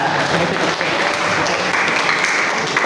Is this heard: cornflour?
no